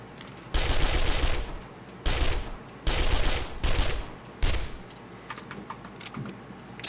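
AK rifle fire in the video game 7 Days to Die, several loud close bursts of rapid automatic shots separated by short pauses, with faint clicks between them.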